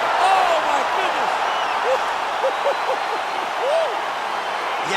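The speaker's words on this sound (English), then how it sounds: "Crowd absolutely loving it." An arena crowd at a UFC fight roaring after a knockout, a dense, sustained wall of cheering and shouting with scattered whistles rising above it.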